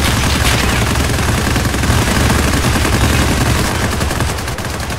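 Dense, continuous gunfire in Escape from Tarkov: Arena, loud and close, an unbroken roar of rapid shots that eases slightly near the end.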